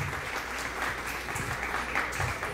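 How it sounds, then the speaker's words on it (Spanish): Audience at a kindergarten graduation ceremony in a school claps for children receiving excellence certificates, a steady, moderately loud wash of many hands lasting the whole moment. "un fuerte aplauso para estos chicos que recibieron ese certificado de excelencia"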